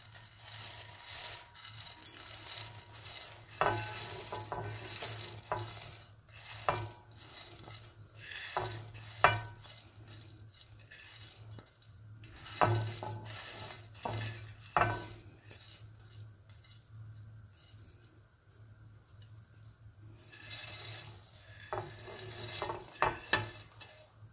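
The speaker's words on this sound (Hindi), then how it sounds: "जो चाशनी हमने बना के रखी थी उसके अंदर हम डालेंगे बूंदी" Fried boondi is stirred into sugar syrup in a pan, with repeated soft scrapes and clinks of a spoon against metal over a faint, steady background, close and fairly quiet.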